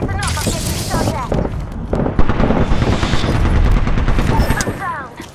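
Video game combat gunfire: dense, rapid bursts of shots and booms rattle continuously over several seconds, loud and close, with voice callouts and game chatter over the shooting.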